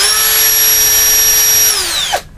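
A loud, steady high-pitched whine of a Hasston 3075-025 brushless cordless drill running at constant speed, then winding down and stopping abruptly near the end.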